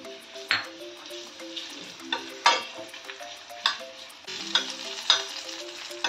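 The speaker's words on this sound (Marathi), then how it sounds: "आता यामध्ये आपण थोडे खजूर परतून घेऊयात." Dates being sautéed in ghee in a pan, a steady close sizzle and frying hiss with repeated sharp stirring scrapes and clicks throughout, no talking.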